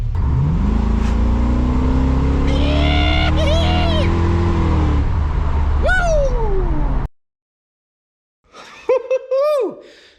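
A 1999 Chevy S-10 pickup with a swapped LS V8 revs up loud and close, its pitch climbing and falling twice before cutting out, then a short squealing burst returns with a voice exclaiming.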